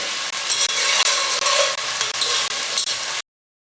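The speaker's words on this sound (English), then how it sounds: "We need to brown this onion before we can add anything to it." Chopped onions brown in a hot pan for vegetable pilau, a loud continuous sizzle broken by regular stirring strokes, about eight in a row, before cutting off abruptly.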